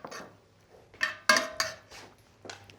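Cooked aubergine stirred into mince in a pan, heard as a string of sharp metallic spoon scrapes and clinks against the pan, irregular and close, with quiet gaps between strokes.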